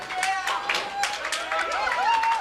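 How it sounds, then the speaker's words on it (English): A small crowd at a women's bowling tournament, the 2013 Team USA Trials, claps and cheers as a bowler covers a spare, with the sound brief and moderate and a commentator's voice over it. "that's cheering for Morgan covering that spare"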